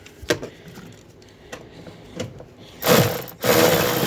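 Ratchet tightening 10 mm nuts and bolts on a Chevy Traverse engine during a water pump replacement; scattered faint taps and clicks lead into two loud, close bursts of rapid ratcheting near the end.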